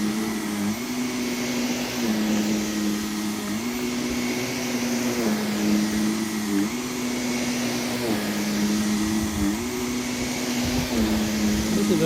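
An upright vacuum cleaner runs steadily across a synthetic rug, its motor drone rising and dipping in a regular back-and-forth rhythm with each push and pull stroke, close and continuous without voices.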